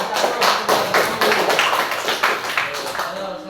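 Classroom applause from a group of students after an answer, brisk many-handed clapping with a steady rapid pulse, close and fairly loud for a few seconds with a murmur of voices underneath.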